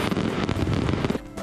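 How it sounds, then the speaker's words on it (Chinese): Fireworks burst over Sun Moon Lake in Nantou during the annual fireworks festival, a dense run of loud booms and crackling blasts for about a second before fading to a quieter tail. "烟火在空中爆炸"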